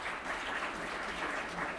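An audience in a conference hall applauds, a steady wash of clapping at moderate level, brief and without any voices over it.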